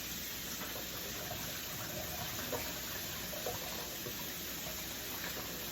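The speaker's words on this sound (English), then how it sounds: "So I just make sure I rinse them off." Tap water runs steadily into a sink while fresh green beans are rinsed, a constant close hiss of flowing water with no talk over it.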